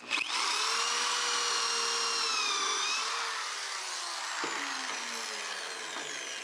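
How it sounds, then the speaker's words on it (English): A power drill with a stepped pocket-hole bit whines steadily through a wooden board clamped in a jig, its pitch sagging slightly as the bit bites deeper, then easing off near the end. "You clamp the board in, and you have the special bit to drill a stepped hole."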